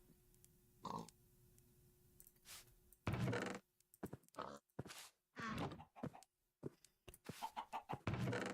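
Chickens in the Minecraft modpack StoneBlock 4 give short, separate clucks and squawks, with thumps and other game noises in irregular bursts and quiet gaps between them.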